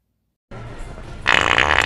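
A loud, wet fart sound effect in a comedy short bursts in after a half-second of silence, rumbling and then swelling into a harsher, louder blast that runs to the end.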